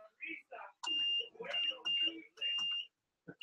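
Steady high electronic beeps from base beepers at an outdoor beep baseball exhibition game, sounding in several sustained bursts with talk in between.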